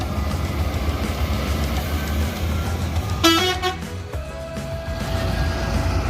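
An ANS bus pulling into the Bare terminal in Solo sounds a loud multi-tone horn blast partway through, over steady engine rumble and terminal background noise.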